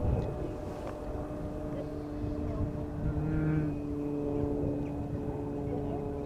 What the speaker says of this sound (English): Something with a piston engine.